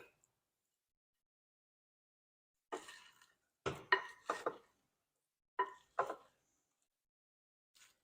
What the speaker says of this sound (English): Now it's time to mix everything together.